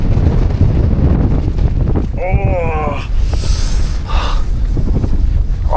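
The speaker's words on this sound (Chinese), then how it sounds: "我的天哪，这风！" Strong wind in Iceland batters a tent, roaring and buffeting hard against the nearby microphone in loud continuous gusts, while a voice briefly exclaims partway through.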